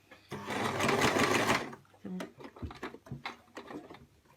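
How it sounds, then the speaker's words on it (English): A sewing machine stitches straight down fabric to a pin while mitring a corner with a plastic piping presser foot, a steady close whir for about a second and a half, then scattered clicks and handling noises. "let's get started with that by sewing straight down to the pin"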